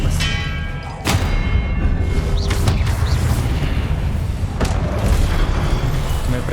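Expelliarmus disarming spells cast in the Hogwarts Legacy video game, heavy booming thuds and sharp impact cracks recurring amid dense, loud battle noise during a boss fight.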